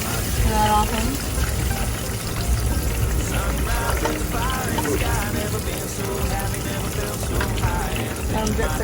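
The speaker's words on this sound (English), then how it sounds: "we're gonna let them drip a little bit, just to kind of get that off of them" Water runs and splashes steadily off freshly cleaned bay scallops, a continuous pouring wash close by that fills the whole stretch, with faint voices murmuring underneath.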